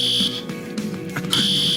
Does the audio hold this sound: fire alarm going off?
yes